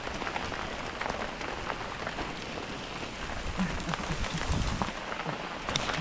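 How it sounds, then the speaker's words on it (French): A hailstorm during a thunderstorm outdoors: a dense, steady hiss of hailstones and rain pelting surfaces with no pause, fairly close, with no voices heard. "comme il grêle, en plus quel orage"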